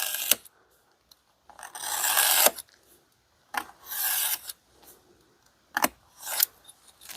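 A knife drawn through leather while cutting a welt for an axe mask, giving long raspy scraping strokes in several separate passes with short pauses between them, close and fairly loud.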